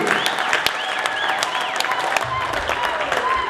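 A church congregation at a cathedral Music Sunday service claps together in sustained applause, with voices and high whistle-like tones mixed into the crowd noise.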